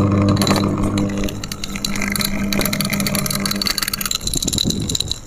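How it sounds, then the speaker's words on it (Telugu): Bhima Gold cooler water pump motor running dry, a loud steady mechanical hum with rattling buzz that holds throughout, alone with no talk. "ఈ యొక్క కూలర్ మోటార్ పంప్ అనేది ఏ విధంగా వర్క్ అవుతుంది"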